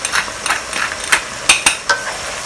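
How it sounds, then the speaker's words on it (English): A utensil stirring chicken and mushroom sauce with scallions in a pan, giving a series of sharp scrapes and clinks at an uneven rhythm, close and fairly loud, with a soft background hiss. "Give it a stir."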